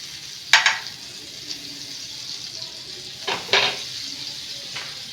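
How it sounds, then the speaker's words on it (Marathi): Butter hits a preheated pan with a low, steady sizzle, broken by two sharp clatters of a utensil against the pan. "आता याच्यावरती थोडंसं बटर टाकते."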